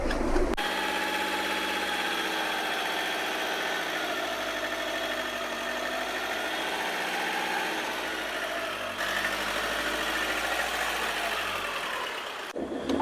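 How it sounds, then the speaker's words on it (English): Old diesel car engine idling after glow-plug warm-up, a loud, steady low rumble with a slight shift in tone partway through, running continuously up close before cutting off near the end. "It's a diesel. We have to wait for the glow plug to warm up the engine."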